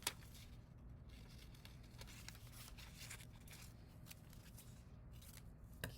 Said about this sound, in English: let's go ahead and cut that one out